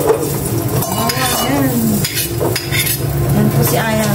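Garlic frying in a pan, a steady loud sizzle with utensils stirring and scraping against the pan, close up, with a few voices talking over it.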